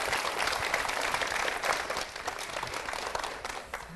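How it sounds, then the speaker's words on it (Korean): A church congregation applauds a deacon after a testimony. The clapping is a soft, continuous wash that gradually thins and fades toward the end. "다시 한번 집사님께 큰 박수 부탁드리겠습니다"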